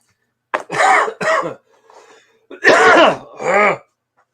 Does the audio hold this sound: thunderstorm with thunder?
no